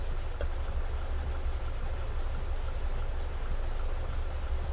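In Farming Simulator 22, water pours steadily into a tank, a soft, even gushing rush with low rumble, constant and moderately faint throughout with no talk.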